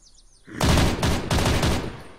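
Automatic gunfire in the Unturned zombie video game: a quiet start, then several loud, rapid bursts of shots fired close up in quick succession.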